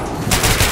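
Rapid bursts of gunfire in the video game Metro Last Light, a dense crackling volley starting partway through and running loud to the end, with noisy game ambience before it.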